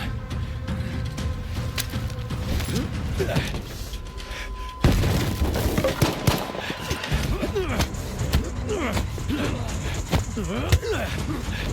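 Gunfire in the video game S.T.A.L.K.E.R. 2 crackles and booms amid mechanical clatter, with shouting voices over the shots throughout.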